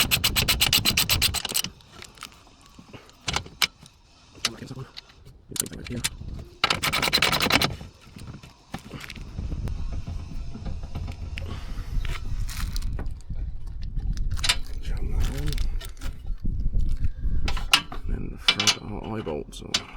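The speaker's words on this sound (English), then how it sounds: "Then I'm going to put a nylock on." A nylock nut is fitted and tightened on a metal roof rack bracket holding a gas bottle mount, giving scattered scrapes, clicks and rasping turns of the wrench, close by, with someone speaking in between.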